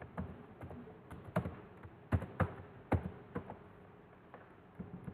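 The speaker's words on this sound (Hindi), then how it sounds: "मैं इसी को पेस्ट करता हूँ और फिर यहाँ टाइप करूँगा" Light, irregular keystrokes on a computer keyboard, close and fairly quiet, clustering into short bursts of taps with gaps between them, no voices.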